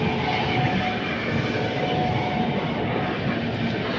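Padatik Express pulling into a station, a steady, loud rumble of rolling railcars and wheels on track that holds evenly throughout, with no voices over it.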